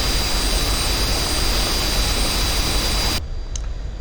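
Jet engine of a Pakistan Air Force F-86F Sabre spooling down, a loud, close, broadband roar with a high whine that holds steady, then drops abruptly to a much quieter hum.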